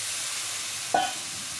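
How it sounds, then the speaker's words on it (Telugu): Half a kilo of chicken fries in oil with onion, chilli and tomato, a steady sizzling hiss with one short metallic scrape partway through. "ఇప్పుడు క్లీన్ చేసి చికెన్ వేసుకున్నాం ఎక్కువ ఫ్రై అయితేనే బాగుంటుందండి ఈ చికెన్"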